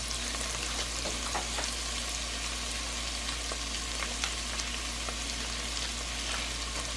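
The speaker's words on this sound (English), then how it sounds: "Mash them together, but we're also stirring because we don't want our garlic to burn" Bouillon cubes mashed and stirred into a roux with garlic in a hot pan, a constant close frying sizzle with faint crackles and soft scraping stir sounds, no voices.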